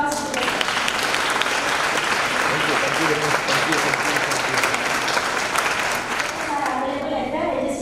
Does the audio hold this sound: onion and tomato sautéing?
no